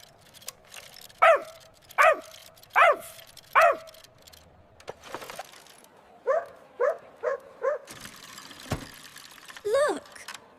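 A tiny white puppy gives a run of high, yappy barks, four evenly spaced at first, then a quicker cluster of four, then a last yelp, close and clear over a quiet background.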